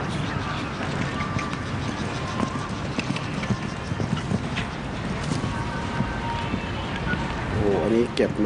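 Horse hooves thud across the ground during a show jumping competition at an FEI CSIY-B event in Bangkok, a steady run of clip-clop footfalls under a continuous murmur and a commentator's voice.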